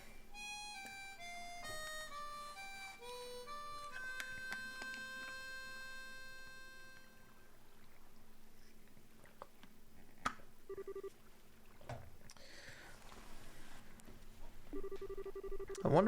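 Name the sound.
harmonica song played in video game Trails in the Sky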